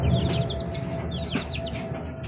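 Gamefowl chickens from a Sweater and Gilmore cross, with month-old chicks, cluck and chirp close by. Overlapping peeps and short clucks rise over a low background rumble.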